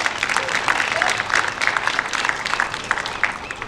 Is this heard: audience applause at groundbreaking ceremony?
yes